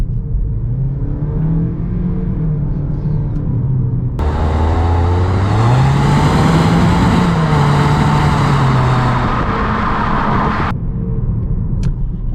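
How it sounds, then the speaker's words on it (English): A 2020 Toyota Corolla Nightshade hatchback, a small lightweight car, accelerates hard after a turn, its engine note climbing steadily in pitch over road rumble, loud and close for several seconds before easing off. "We are turning here so we can get our massive acceleration"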